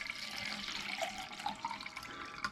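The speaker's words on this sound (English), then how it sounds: "We're going to kind of fill it up here with water." Tap water runs into a small cooking pot inside an RV, a soft, steady splashing stream with a faint rising pitch as the pot fills. It is quiet and close, with no talking.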